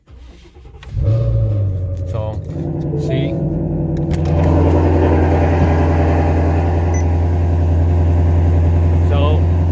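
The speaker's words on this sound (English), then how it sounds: "So now you start in the car, it's on make sure it's on sport, and then just start the car." Ford Mustang GT350 with active exhaust valves open in sport mode cranks and fires up with a loud bark, then settles into a deep, steady, rumbling idle close by, with a brief spoken word at the start.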